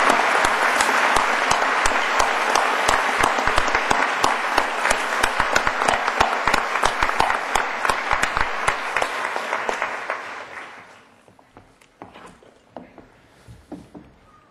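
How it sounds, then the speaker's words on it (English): Graduation ceremony audience applauding faculty and students of a public service administration department, a loud sustained wash of clapping that fades out over the last few seconds, leaving scattered claps and quiet room sound. "One more round of applause for the faculty and students of the Department of Public Service Administration."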